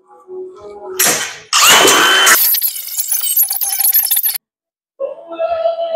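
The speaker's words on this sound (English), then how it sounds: "I tend to like to use the corded grinders when I'm doing, like taking off the bulk of welds on these things." A corded Milwaukee angle grinder grinds down the bulk of welds on a studio bench frame, in loud, harsh bursts that start, rev up and stop, with a pause before a shorter final run.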